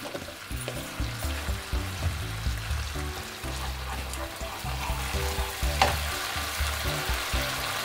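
Mustard paste sizzling steadily in a pan, with repeated scraping strokes of a spoon stirring it, close and moderately loud.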